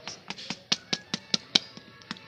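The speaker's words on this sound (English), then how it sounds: "I hear the footsteps." Footsteps in a quiet space, about a dozen light, evenly spaced taps in quick succession, close and clear with no talking.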